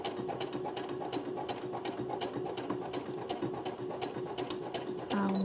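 A Brother sewing machine stitching a pocket with a bi-level foot runs steadily with a fast, even mechanical chatter of needle strokes, close and continuous, and a brief whine at the end.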